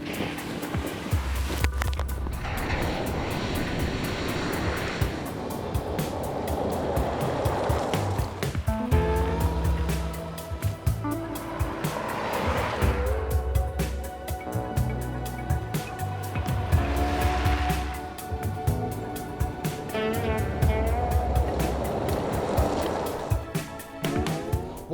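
A 2015 Volkswagen Touareg drives off-road through the Sierra Nevada mountains in Spain, its engine rising and falling in repeated surges with rumbling tyres over rough ground, continuous and fairly close.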